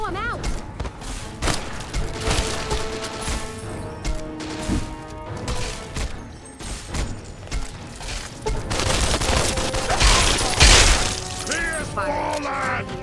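Fallout gunfire erupts in repeated sharp bursts and shattering crashes, loud and close, growing denser toward the end, while people talk excitedly over it.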